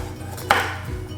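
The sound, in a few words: knife roughly chopping pecans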